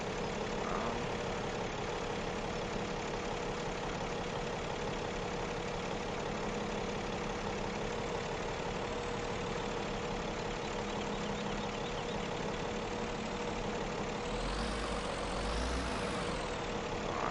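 A truck engine idles in the Farming Simulator game, a steady low rumbling drone held at constant level throughout, with a brief rise in pitch near the end and no voices.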